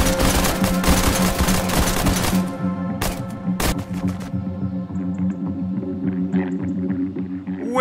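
Rapid gunfire from a Fortnite short film, a dense burst of shots that stops abruptly, then two sharp single cracks before a humming tonal quiet.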